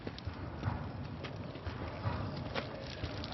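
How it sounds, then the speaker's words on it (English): Horse hooves clip-clop in an uneven walking rhythm against a muffled background rumble, close and moderately loud. "Horses."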